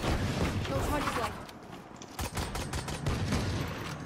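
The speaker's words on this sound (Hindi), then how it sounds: "ओ लगाए ओमेन को हेडशॉट लगाए." Rapid gunfire bursts sound during a 5v5 Valorant match, loud and close, with players talking over the shots.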